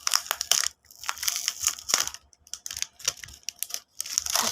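Plastic Miniso packaging being crinkled and crushed in a run of crackly bursts, some loud and close, with short quiet gaps between them.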